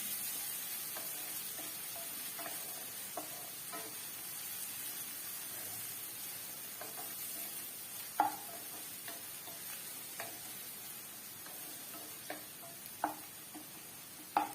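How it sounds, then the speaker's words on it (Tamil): Chopped onions sautéing in oil for an egg masala, giving a faint, low, continuous sizzle broken by scattered soft ticks and spoon clinks, a few louder taps toward the end; no talking. "வெங்காயம் எண்ணெயில் நல்லா வதங்கட்டும்"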